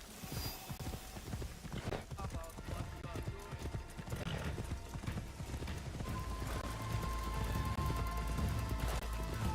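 Horse hooves clip-clopping at a steady gallop in the video game Assassin's Creed Shadows, with a whinny and busy game sounds and music layered around the rhythmic beats.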